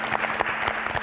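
A studio audience at a French entrepreneur invention contest show claps in a brief, dense burst of applause.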